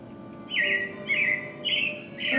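Robin chirps from a theme park show effect at Disney's Carousel of Progress repeat in a pattern of four bright, sliding calls over a steady low hum, clear and moderately loud.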